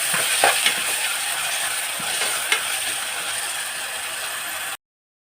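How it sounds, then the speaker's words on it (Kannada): Ginger, garlic and coriander paste sizzles in a pan for mutton keema, a steady close hiss with a few scraping stirs, ending abruptly in silence. "ಹಸಿ ಸ್ಮೆಲ್ ಹೋಗೋ ತನಕ ಫ್ರೈ ಮಾಡ್ಕೊಳ್ಳೋಣ"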